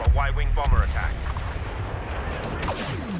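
Pulse cannon blasts in a Star Wars Battlefront multiplayer match on the Outer Rim, two heavy booming shots firing close together near the start, followed by a rumbling decay and scattered distant battle noise, with a voice talking over the opening.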